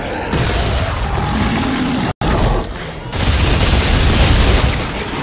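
Exploding enemies bursting in Dead Space 3, loud booms and crackling blasts close by, broken by a brief silent gap, then a longer roaring explosion wash.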